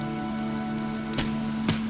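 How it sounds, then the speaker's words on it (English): Steady rain falling in the video game Fire Emblem: Three Houses, a constant hiss of raindrops with a low sustained musical drone underneath and a couple of brief louder splashes. "This rain threatens a coming storm."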